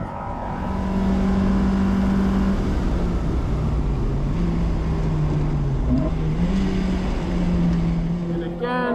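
A 90s import race car, an E36 M3 or Miata, accelerates at full power on a race track, its engine note climbing and holding loud and close throughout, with a shift or two and a voice speaking over it.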